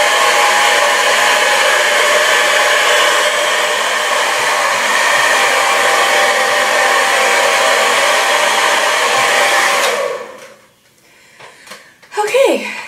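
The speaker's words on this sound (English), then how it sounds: "I'm just going to start blow drying my hair, and I'm going to blow dry it upside down" A hand-held hair dryer blows continuously as hair is dried upside down, a loud, close, steady whoosh for about ten seconds before cutting off, followed by faint rustling and brief breaths.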